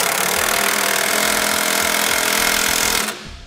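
A power tool drives bolts on the side plates of a Curt custom fifth wheel installation kit on a Chevy/GMC truck, a loud, steady rattling whir that holds for about three seconds before it cuts off.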